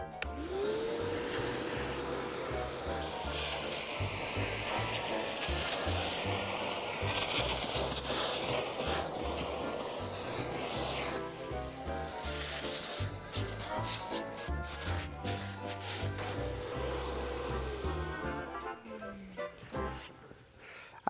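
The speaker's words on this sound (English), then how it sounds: "Right, let's get this vacuum cleaner on," Vacuum cleaner clearing up a DIY mess: the motor whines up, runs with a loud rushing suction and scraping rubs as the nozzle moves over surfaces, then winds down at the end.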